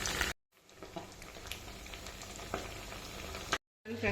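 Fish pieces fry in hot oil for a fish pickle, crackling with a close, steady sizzle and scattered pops for several seconds, bracketed by brief silent cuts.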